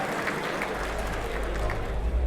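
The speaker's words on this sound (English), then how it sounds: "that calls for another round of applause, ladies and gentlemen" Clapping at a Kiwi-Indian Hall of Fame awards evening fills the room as a dense, even wash of applause, with a low rumble and a murmur of voices underneath.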